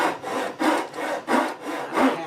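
A hand saw cuts a wooden lower side stretcher for a Queen Anne chair, with about five loud, close back-and-forth strokes in a steady rhythm and no talking.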